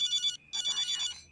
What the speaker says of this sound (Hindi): तुम फोन क्यों नहीं उठा रहे हो?